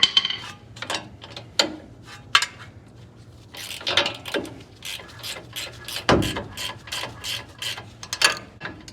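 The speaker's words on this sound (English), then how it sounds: "take a mallet, just hit the spindle here really hard," Sharp, loud mallet strikes on the steering spindle of a 2015-or-later Ford F-150, knocking it loose from a stuck upper ball joint; several irregular metallic bangs ring out close up, with softer clanks between them.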